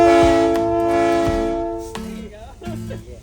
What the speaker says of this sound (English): this is our horn, and you pull it this direction